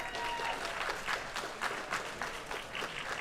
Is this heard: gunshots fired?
no